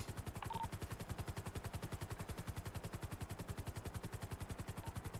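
Rapid, steady automatic gunfire in an online police roleplay game with helicopters, a dense unbroken stream of shots held at constant loudness through the whole stretch, with no talk over it.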